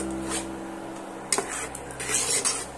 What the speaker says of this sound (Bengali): বেসনের সেটা আমি অনবরত নাড়তে থাকবো